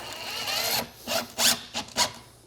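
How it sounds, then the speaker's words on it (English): Screws driven through a foam shower base into the subfloor with a power driver, several short whirring bursts separated by pauses, close and fairly loud. "and just screw it right into the subfloor."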